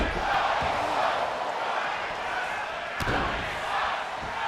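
A wrestling arena crowd in the WWE 2K24 video game roars and chants during a match, a steady, dense wash of distant voices with a sharp thud partway through.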